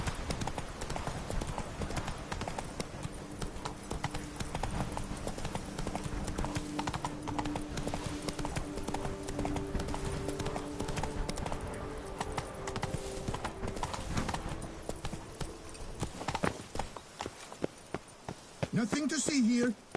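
Roach, the horse in The Witcher 3, trots with a brisk, continuous clip-clop of hooves, loud and close under a steady game soundscape, and ends with a couple of sharper effects.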